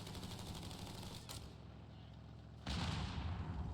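A .50 cal machine gun fires in Company of Heroes 3, a rapid rattling burst that pauses and then starts up again louder under a busy battle din.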